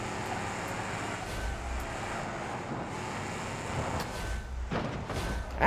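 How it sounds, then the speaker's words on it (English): Car engine in the BeamMP driving game on the Hirochi Raceway, a steady droning roar that swells toward the end, with no talk over it. "The engine sounds are so much louder now."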